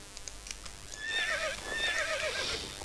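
A wild horse in the game Star Stable Online whinnies twice in a row, a bright, wavering neigh heard clearly alone over faint hoof clops.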